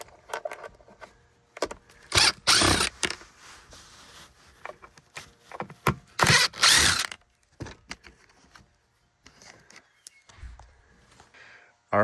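Phillips screws being removed from the interior of a Toyota Hiace van, with short bursts of clicking and ratcheting driver noise, scraping and rattling parts between quieter pauses.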